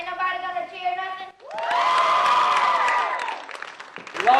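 An audience at an Oklahoma pie auction breaks into a swelling cheer with shouts that fades after a couple of seconds, following a tonal musical passage.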